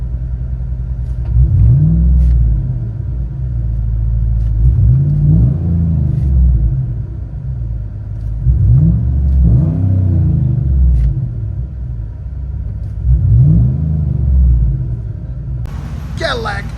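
A 2007 Cadillac Escalade EXT with a 6.2L V8, Flowmaster Super 10 muffler and resonator delete, heard from inside the cabin as a deep steady rumble that swells with several revs, a voice speaking faintly beneath it.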